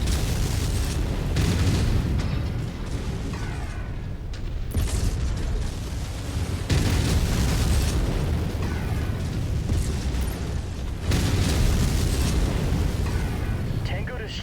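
Heavy, continuous booming blasts from destroyed mechs in MechWarrior 5, including an Atlas AS7-RS, rumbling loudly and densely throughout, with repeated surges of explosive roar and mechanical clatter layered over a deep low-end rumble.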